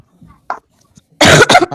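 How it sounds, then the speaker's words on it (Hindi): Loud close coughs burst out over an open microphone during an online maths class, a couple of harsh rasping hacks after a short quiet stretch. "माइक बंद करके खांस लो"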